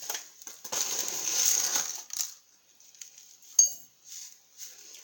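Loose tea leaves are spooned into a teapot: a dry, gritty rustle and scrape for about two seconds, then a few light, separate clinks of the spoon against the pot, close and fairly quiet.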